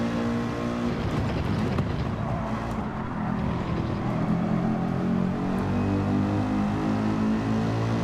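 Mercedes race car engine roaring steadily in Gran Turismo 7, a continuous loud motor drone with shifting pitch that holds close and unbroken, with no talking over it.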